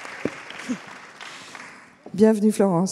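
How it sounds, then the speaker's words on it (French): An audience at a French conference event applauds as a guest arrives, scattered clapping running under a presenter's voice, which rises loudly near the end. "on l'applaudit"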